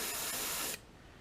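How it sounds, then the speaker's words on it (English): A close, steady hiss of an airbrush spraying paint onto a fishing lure for under a second, then cutting off abruptly to quiet. "lightly spraying this color right through the brush"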